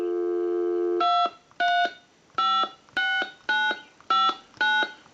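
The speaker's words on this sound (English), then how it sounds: "So we're going to go ahead and dial my number. We'll hang up, dial tone," Harris TS22A lineman's telephone: a steady dial tone cuts off, then seven short dialing tone bursts follow in an even rhythm, clear and close.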